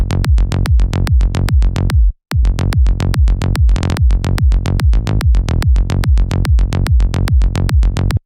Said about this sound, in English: the triplet bass line together with the kick is going to sound like this